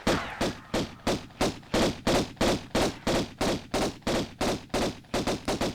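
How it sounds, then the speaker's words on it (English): Gunfire aimed at an enemy in the Tomb Raider video game, a fast, even string of loud, punchy shots going off about three times a second for several seconds, close and with no speech over it. "Keep shooting at him until he falls over."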